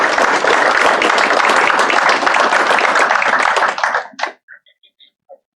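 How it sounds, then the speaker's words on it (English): Loud, close applause from an audience at a career and technical education signing day fills the room, then quickly dies away into a few scattered final claps. "let's give Ms. Kelby a round of applause"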